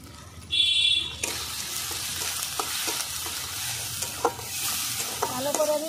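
Chopped tomato, turmeric and salt stir-fried in hot oil for a rohu fish curry with moringa stalks, a soft steady sizzle broken by several sharp spatula scrapes, following a brief high tone near the start.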